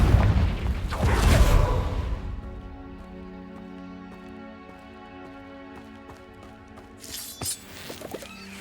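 A Confringo fire-spell blast in Hogwarts Legacy, a loud booming burst up front that fades into steady tonal in-game music, with a smaller crackling burst near the end.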